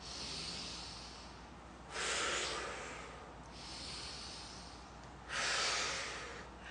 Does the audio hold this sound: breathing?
yes